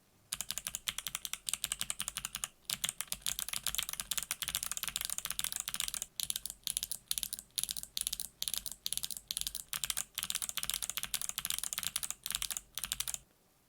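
Typing on a mechanical keyboard with BOX Jade switches muffled by bandaids, a close, quick run of clacky keystrokes with brief pauses between bursts; no talking.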